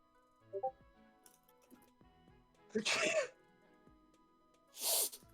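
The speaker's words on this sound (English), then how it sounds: "It was a sneeze." Two loud, sharp sneezes a couple of seconds apart, close by, with soft background noise and faint talk in between.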